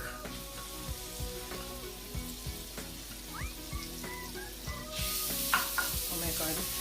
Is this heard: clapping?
no